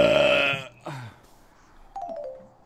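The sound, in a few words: burp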